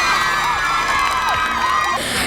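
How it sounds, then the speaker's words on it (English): Students at a residential school cheer and shout loudly at a school parliament election, a dense, continuous roar of young voices with whoops rising over it. "Everyone give us applause!"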